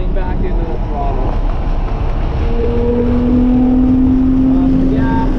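A Lotus car engine pulls back under throttle, with a rising drone building steadily in pitch near the end. Loud road and wind rush runs throughout, and a voice talks over it.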